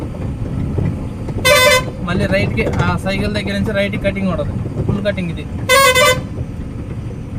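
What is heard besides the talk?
vehicle horn honking on narrow road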